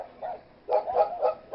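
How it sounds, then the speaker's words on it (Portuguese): Dogs at their kennel close by at night during a power cut, giving a few short, muffled barks in quick succession, near and moderately loud, with no one talking. "a casota dos cães está aqui mesmo à minha beira e elas ladram."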